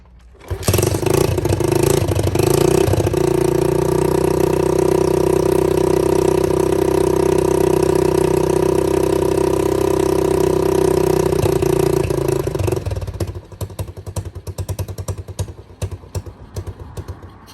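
An Apollo 125cc dirt bike engine runs with no exhaust pipe, a loud, raw, rapid rattling drone held steady up close for about twelve seconds before dropping to a choppier idle.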